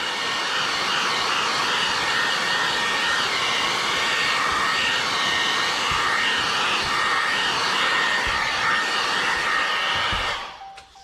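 A heat gun blows a loud, steady hot-air roar while shrinking ceramic window tint film on a 2022 Dodge Ram, holding constant for about ten seconds before switching off and winding down.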